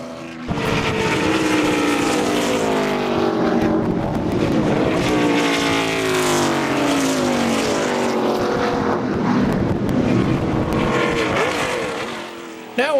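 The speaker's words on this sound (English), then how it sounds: "After the cars leave the grid, we'll set our video camera on the turn 17 wall for the first lap action." Race cars on the first lap at Sebring, heard from the turn 17 wall during an HSR endurance race, roar past one after another in loud, overlapping engine passes with rising and falling pitch that run without a break.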